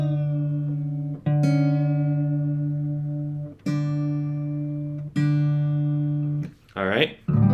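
High E guitar string tuned down to D while a sustained tone repeats four times with slow decays, close and clear, followed by a brief bending, sliding pitch at the end.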